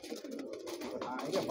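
Soft, low cooing from pigeons in a loft of kept racing birds, a continuous rolling burble close by, fairly quiet, with no talk over it.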